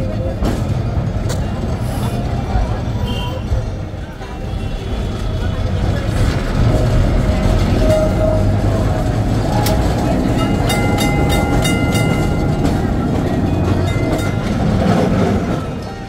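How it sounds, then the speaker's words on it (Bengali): A heritage tram on the old streets of Kolkata rumbles steadily along its rails, a continuous loud clatter and hum with occasional sharp clicks and squeals throughout. "ঘন্টা বাজিয়ে আমাদের ট্রাম যাত্রা শুরু করলো।"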